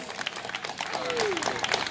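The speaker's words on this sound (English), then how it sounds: "Lady Captain Tyson, everybody clap it up for her." Audience applause at a political rally in Baltimore, Maryland: dense, steady clapping from a crowd, fairly loud and continuous, with a voice briefly heard underneath.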